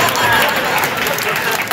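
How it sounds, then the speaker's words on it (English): A comedy stand-up crowd breaks into dense, loud applause, an even roar of many hands clapping throughout with light cheering mixed in. "Can we give this man a round of applause, by the way?"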